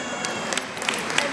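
An audience at a Pilot International convention session in Rochester, New York, claps in a light, scattered patter with a few sharper individual claps, under a murmur of voices.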